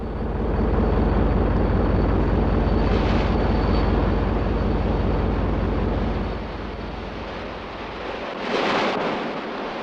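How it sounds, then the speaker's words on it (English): Wessex helicopter hovering low over the sea, a loud steady rotor and engine roar mixed with wind and water wash that eases slightly toward the end. "the helicopter, hovering low over the sea,"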